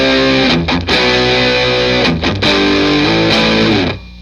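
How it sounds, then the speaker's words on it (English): Electric guitar run through a Boss DS-1 distortion pedal with the distortion set to maximum, playing heavy metal-style chugging chords. It is loud, thick and saturated, with brief gaps between riffs, and it plays alone without any talk. "Right now I have the distortion pedal just maxed out"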